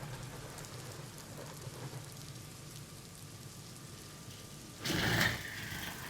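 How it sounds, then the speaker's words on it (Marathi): Heavy rain falls steadily by the Ulhas River in Badlapur with a soft wash of noise, swelling briefly into a louder gust near the end. "काल रात्रीपासून कोसळणाऱ्या मुसळधार पावसामुळे"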